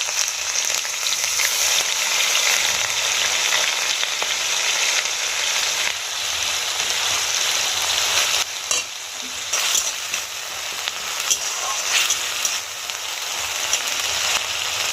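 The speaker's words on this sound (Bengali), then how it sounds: "এবার আমি পেঁয়াজ বাটাটা দিয়ে দেবো। লক্ষ্য রাখবেন পেঁয়াজ বাটায় জল থাকে যেন ছিটকে না যায়।" Onion paste frying in a pan for a festive-style chana masala, giving a steady, loud sizzle with stirring scrapes throughout and no talking.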